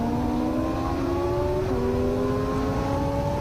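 A Kawasaki ZX636 motorcycle laps Donington Park with a continuous, loud engine whine. Its pitch climbs and drops slightly as it rides through the Melbourne Loop.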